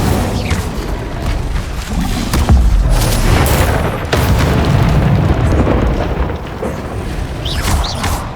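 Incendio fire spell cast in Hogwarts Legacy on PS5, a loud, dense roaring whoosh of fiery blasts and booms running continuously across the clip with layered game effects.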